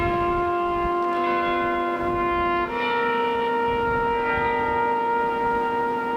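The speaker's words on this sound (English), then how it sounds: "Shattered by the tolls of another bell and a single trumpet playing taps." A church bell at Arlington National Cemetery rings with a steady, sustained tone that shifts pitch partway through, loud and clear with no one talking.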